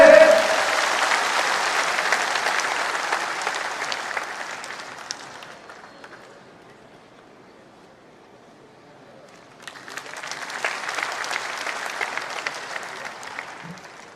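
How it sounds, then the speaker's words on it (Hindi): Loud applause greets guests at a brick kiln makers' conference, a dense burst of clapping that fades to near silence, then swells again into a second sustained round. "जोरदार स्वागत ताली से।"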